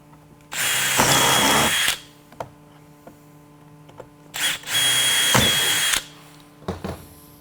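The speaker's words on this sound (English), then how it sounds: "Drill them the rest of the way through." A power drill cuts through the wheel housing of an edge caster in two close, loud bursts of steady whine, each lasting over a second, separated by a quiet gap and followed by a brief final spurt.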